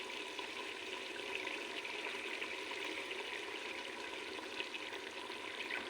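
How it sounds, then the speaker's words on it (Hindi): Mutton fries in a small amount of oil in a karahi as it is browned, giving a steady, even sizzle that fills the clip at moderate level, with no talking. "अब हम इसको अच्छे से भून लेंगे, 5 से 7 मिनट इसको अच्छे से भूनना है"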